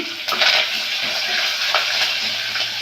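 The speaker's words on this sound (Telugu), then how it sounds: "ఇప్పుడు మనం కరివేపాకు, పచ్చిమిర్చి 4, అల్లం కాస్త వేస్తానండి." Curry leaves, four green chilies and a bit of ginger hit hot oil for rice rava upma, giving a loud, crackling sizzle with bursts of spatter and stirring that carries on steadily.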